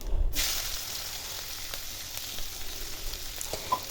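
Onion frying with fennel seeds in a pan for a fish curry, a steady close sizzle that runs throughout with a few faint stirring scrapes and a brief louder knock at the start.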